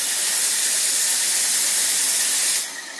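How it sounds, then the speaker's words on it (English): Steam wand of a coffee machine hisses loudly and continuously during its cleaning cycle, a close, steady rush of steam that drops off sharply near the end. "I also let the steam wand go through a cycle."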